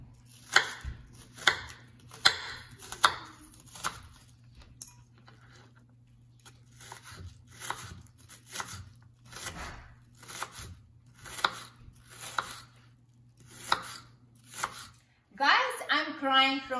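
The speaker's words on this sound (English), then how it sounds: "So we are going to cut onion. I like small pieces, okay?" A knife chops an onion into small pieces on a board, with crisp regular strokes in bursts and short pauses between them, close and clear, with a brief voice at the very end.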